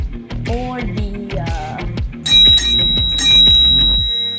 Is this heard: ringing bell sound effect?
yes